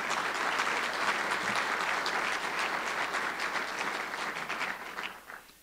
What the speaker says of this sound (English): A round of applause for a highly talented star